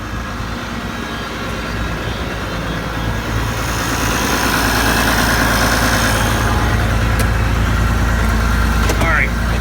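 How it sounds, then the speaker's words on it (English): An old fertilizer spreader runs with its spinners turning, a steady, low mechanical hum and engine drone close by that holds evenly throughout, with a brief voice near the end. "And our spinners are spinning. Boy, they run smooth. I'm surprised for the age of the machine."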